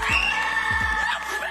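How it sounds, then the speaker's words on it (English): Two children scream loudly and continuously at a would-be burglar inside a home in Utah, shrill sustained cries close to the recording device with a few brief thumps beneath. "Watch this and listen to the screams that would send anyone running."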